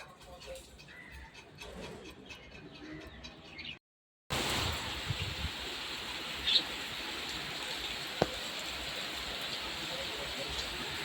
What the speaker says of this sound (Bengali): এখানে জোর বৃষ্টি শুরু হয়েছে।